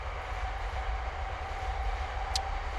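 A train passes by at a steady distance, a continuous low rumble with rolling wagon noise and a faint high squeal near the end, no voices.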